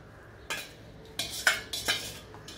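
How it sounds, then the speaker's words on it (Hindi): Hot custard being stirred into a warm china grass mixture in a pan over a low gas flame, heard as a few separate scraping, clinking utensil strokes against the pan, close and fairly quiet, with no talking. "हम मिक्स करेंगे कस्टर्ड में जो हमने पका कर रखा है उसमें डाल देंगे"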